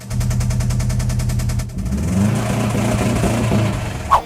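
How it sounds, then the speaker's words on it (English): A car engine with a failed connecting rod bearing knocks in a rapid, even rhythm, first as a steady metallic pulsing, then shifting into a rougher, irregular knocking as the engine note changes, loud and close, ending with a brief sharp clack. "This is what the rod knock sounds like."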